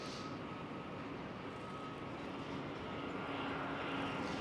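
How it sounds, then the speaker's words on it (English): A Croatia Airlines airliner departing Amsterdam Schiphol toward Zagreb, heard as a faint, distant, continuous engine rumble with a thin steady tone, slowly growing a little louder, no talking. "There goes the Croatia Airlines towards Zagreb."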